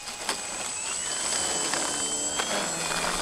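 A 1/7 scale Sopwith Camel RC model fighter plane flies in a crosswind, its small engine a steady, fairly faint high drone with a thin whine sustained throughout.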